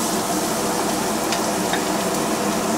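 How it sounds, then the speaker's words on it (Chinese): Ground pork, 150 grams, stir-frying in oil over medium-low heat in a pot just used to fry taro, a steady loud sizzle with faint scraping of a spatula, no voices. "我们现在开中小火，倒点油，把绞肉放进去炒香。"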